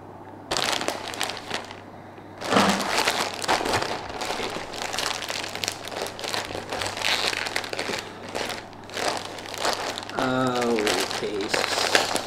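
Plastic packaging crinkles and rustles in bursts while a Cabin Zero ADV Pro backpack is unboxed, close and fairly loud, with handling noises between them.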